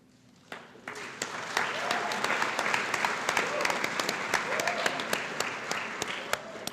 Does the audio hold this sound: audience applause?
yes